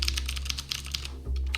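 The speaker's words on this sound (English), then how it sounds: "if you work in an office, like I used to do, and your keyboard sounds like this" Rapid clattering keystrokes on a loud office computer keyboard, close and steady, ending with a few heavier key presses over a low background hum.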